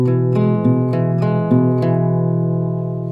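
Acoustic guitar fingerpicking a steady repeating pattern of plucked notes over a sustained bass, clear and close, with no voices.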